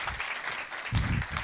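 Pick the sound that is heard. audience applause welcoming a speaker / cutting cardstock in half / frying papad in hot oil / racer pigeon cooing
audience applause welcoming a speaker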